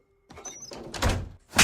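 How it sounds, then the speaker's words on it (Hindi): A door being closed indoors in a Hindi film scene: a brief creak and scrape, then a heavy thud as it shuts, close and alone. "मैं अंदर ही रहूंगी दरवाजा बंद करके।"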